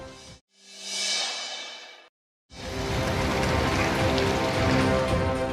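Heavy monsoon rain pours down in Nepal's hills, a dense broadband hiss in two bursts split by brief silences, the second steady and sustained to the end.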